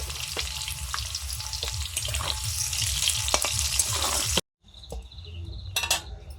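Potatoes frying with turmeric and salt for a mutton meal give a steady, close, loud sizzle with scraping stirs for about four seconds. The sound cuts out briefly, then fainter clatter and water-like noise follow.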